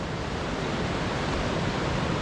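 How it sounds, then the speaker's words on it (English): Steady, full rush of water pouring over an icy rock shelf in the Scottish wilds, a constant broadband roar with no pauses, close and fairly loud. "see the way the water runs over that rock shelf there folks"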